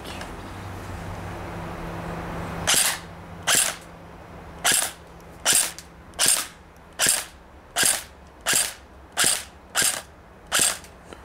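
A King Arms SIG 556 Shorty airsoft replica fires semi-automatic outdoors, giving about ten sharp, evenly spaced shots roughly two-thirds of a second apart, close and crisp over a quiet background hum, with no talking.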